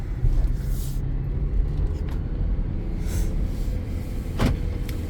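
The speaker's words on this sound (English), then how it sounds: "And so you hear the motor sounds good. It's really quiet." A 2016 Jeep Compass with a small 4-cylinder engine idling quietly: a low, smooth, steady engine rumble heard close up, with a few faint clicks and knocks but no voices.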